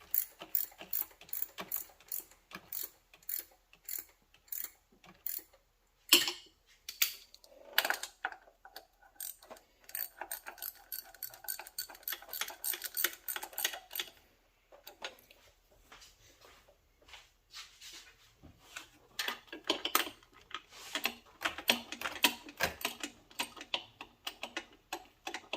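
Ratchet with a 9/16 socket snugging down bolts on a 1993 GMC Typhoon, close, quick bursts of clicking with short pauses between runs.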